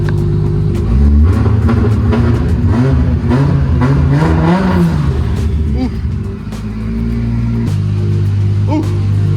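A tuned car engine fitted with Haltech electronics revs hard and close by, rising and falling through punchy blips before dropping to a rough idle, with someone talking over it.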